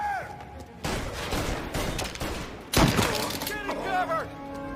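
Gunshots ring out in a Mafia Remake cutscene, with two heavy bursts of fire cutting through a tense scene over a dense background of noise and voices.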